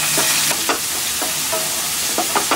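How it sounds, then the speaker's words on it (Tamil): Onions, curry leaves and coriander sauté in hot oil, giving a steady close sizzle broken by a few quick scraping stirs. "வதங்கினதையும் நம்ம கருவேப்பிலை கொத்தமல்லி எல்லாத்தையும் போட்டுட்டு எண்ணெயில் ஒரு வதக்கு வதக்கிக்குவோம்"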